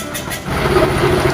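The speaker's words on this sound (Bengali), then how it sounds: "এখন মেশিন স্টার্ট দেবো, দেখি স্টার্ট নেয় নাকি" A machine's engine starts and settles into a loud, steady running rumble, close by and with no one speaking.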